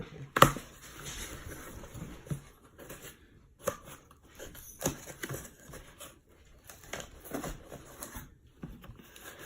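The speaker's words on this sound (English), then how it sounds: "What's all the shredded paper?" Shredded paper packing rustles and crinkles while a Christmas-present box holding a QMH beer can pot is unpacked, with scattered sharp crackles and handling bursts close to the mic, mostly without talk.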